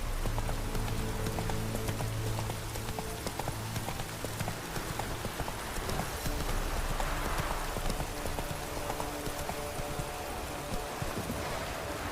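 The horse Roach gallops in The Witcher 3: Wild Hunt, a steady, fast clip-clop of hooves over a dense wash of ambient game noise with rain-like hiss, continuous and moderately loud, no voices.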